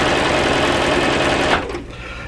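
A home sewing machine set to about half speed on its dial runs steadily with the foot pedal fully pressed, a loud continuous whirring that stops abruptly near the end, with no talking.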